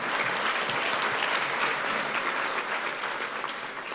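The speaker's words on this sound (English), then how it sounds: "One more round of applause for our PR directors" A crowd at a Pro Football Hall of Fame awards event gives a round of applause, a dense, even wash of clapping that holds at full strength and eases slightly toward the end.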